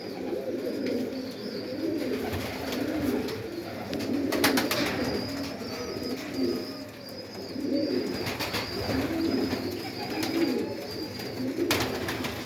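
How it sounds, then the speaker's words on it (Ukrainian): Pigeons coo steadily in a dovecote that includes a yellow-marbled bird, their soft repeated calls layered close together over a continuous low murmur, with a few brief higher chirps and no talking. "Офігенні голубочка, он голуб жовто-мраморний."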